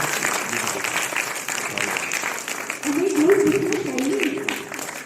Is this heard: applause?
yes